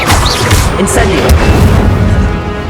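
Fiery Incendio spell cast in Hogwarts Legacy, a loud sustained whooshing burst with low booming rumble that fills the whole moment.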